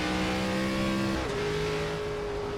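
An ARCA race car engine in iRacing drones with a steady high pitch, then shifts to a new pitch partway through, loud and continuous with no voices.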